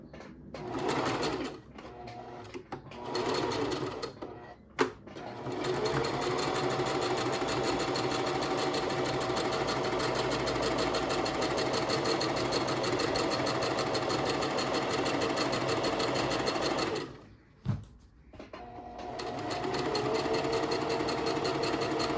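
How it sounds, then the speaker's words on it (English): Sewing machine stitching fabric for a kimono, with short bursts of back-stitching followed by a long continuous run of fast, even mechanical whirring and clatter, briefly stopping near the end before resuming; close and loud, no voices. "You're gonna start with a back stitch, sew, and then end with a back stitch."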